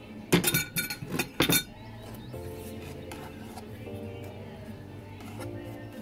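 A few sharp glass clinks in quick succession as milk is mixed into liquid ingredients for banana muffins, then quieter stirring and background hum.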